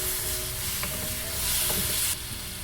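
Mango gojju frying in a pan gives a steady, close sizzle with soft stirring scrapes, with no talk.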